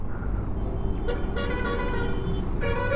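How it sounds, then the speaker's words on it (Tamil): A Honda CBR 1000RR sports motorcycle engine idles steadily with a low rumble, then revs sharply a few times, the exhaust note rising and falling, close by. "ஸோ எக்ஸாஸ்ட் நோட் கேட்போமா?"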